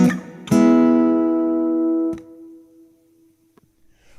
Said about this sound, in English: We've got kind of a long haul reverb, which sounds like this.